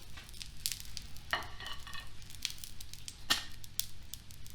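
Sorghum and yellow mung dal uttapam sizzling in a hot, smoking pan right after being flipped, a steady close frying hiss broken by a few sharper crackling bursts.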